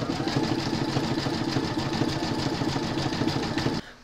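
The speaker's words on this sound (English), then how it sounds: "pop your hoop into your machine and stitch colour 5, and that's going to zigzag and join these two panels" An embroidery machine sews a zigzag stitch joining two fabric panels of an in-the-hoop medical pouch, a fast, even mechanical chatter held close and loud, stopping just before the end.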